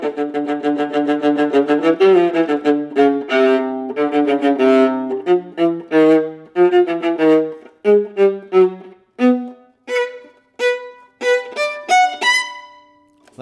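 A solo viola plays an excerpt from Tchaikovsky's Symphony No. 6, with sustained phrases at first, then shorter separate bowed notes and varied dynamics, close and clear with no voices.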